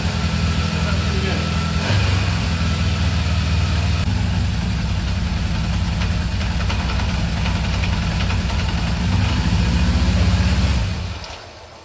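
A 1978 Honda CB750A Hondamatic motorcycle engine, its carburetors freshly cleaned, runs steadily and loud at close range with a knocking, vibrating idle, then cuts out abruptly near the end.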